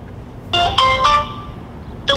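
A phone rings out over a speakerphone, with two short ringtone bursts close together, a pause, then a third starting. Each is a bright, loud electronic tone over a low background hum.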